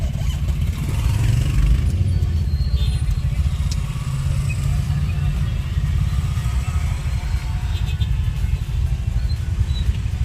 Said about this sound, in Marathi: ट्रॅफिक जाम लागलं आहे.